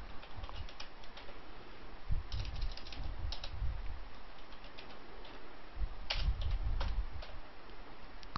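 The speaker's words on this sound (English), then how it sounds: "Now type the ledger name." Quick, irregular keystrokes on a computer keyboard as a ledger name is typed into accounting software, soft and close with short pauses between bursts.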